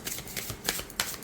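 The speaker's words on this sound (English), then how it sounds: "It side shuffles, overhand shuffles." A tarot deck being side-shuffled and overhand-shuffled by hand gives soft, quick riffling and slapping bursts of cardstock, close and faint, with no talking.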